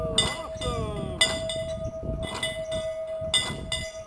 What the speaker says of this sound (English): It even sounds like a train.